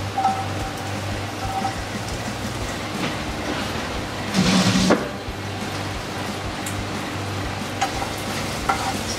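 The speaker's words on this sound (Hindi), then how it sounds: "बिल्कुल थोड़ा सा हमने सौते करना है।" Chopped green capsicum sizzles and crackles as it's stirred in a hot pan for a spicy honey chili potato snack, a steady frying hiss with one louder burst of spatter partway through.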